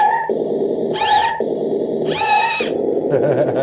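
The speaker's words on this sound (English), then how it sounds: "She makes a skid noise when you hit reverse." An RC truck's electronic sound simulator plays a skidding tire screech when shifted into reverse, two squealing bursts over a steady synthetic engine drone, loud and close.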